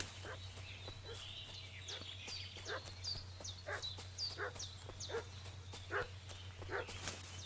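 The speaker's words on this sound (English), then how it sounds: "What's that dog making such a fuss about?" Dog barking in the medieval RPG Kingdom Come: Deliverance 2, a run of repeated sharp barks at moderate distance over a steady low hum, with bird chirps scattered above.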